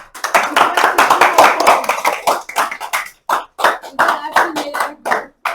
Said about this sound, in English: Round of applause for Ava.